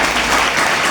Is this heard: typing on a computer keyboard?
no